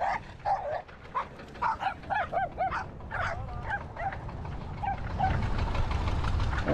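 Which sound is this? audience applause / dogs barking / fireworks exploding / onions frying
dogs barking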